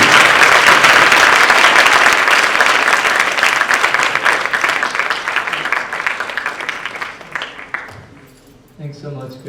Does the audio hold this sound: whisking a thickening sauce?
no